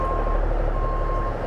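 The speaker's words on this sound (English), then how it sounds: "Truck backing in." A truck backing in early on a weekday morning, its reversing alarm beeping steadily and evenly over a low engine rumble.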